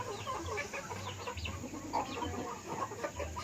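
A chicken recovering from a snoring respiratory illness clucks and calls repeatedly in a morning farmyard, its voice rising over a steady low background hum, with no talking.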